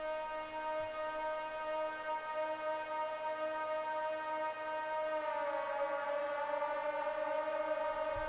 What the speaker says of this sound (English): what gives it that sort of pitch bend here that turns into a siren sort of element